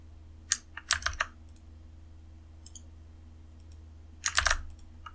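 Clicky keystrokes on a computer keyboard while installing packages on a virtual Linux machine under Windows, arriving in two short quiet bursts with a pause between, with a faint steady hum underneath.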